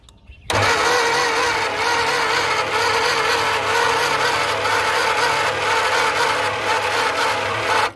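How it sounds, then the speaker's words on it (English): A 1963 limousine engine, sitting unused for 21 years and rebuilt without its heads on, grinds steadily on the starter motor after a short quiet start, a loud continuous cranking drone that holds for several seconds without firing. "Gonna crank it on over again."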